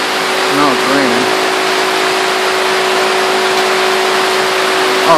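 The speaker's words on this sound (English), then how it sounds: "Now it's raining." Heavy rain pours steadily at a house in Costa Rica, a dense, even hiss that holds at the same loudness throughout, with a few brief faint voice-like sounds early on.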